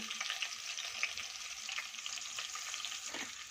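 Finely chopped green chillies fry in a pan with a faint, continuous sizzle and light spattering, heard alone and close.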